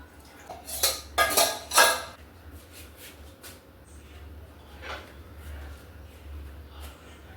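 Metal utensils clink and scrape against a pot as masala tea is strained through a strainer, a quick cluster of bright clatters followed by quieter handling sounds.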